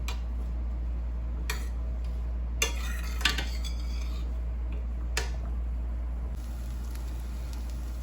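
Vegetables turned in a pan while making portobello mushroom enchiladas, with a few light clinks and scrapes of a utensil over a steady low hum, sparse and fairly quiet.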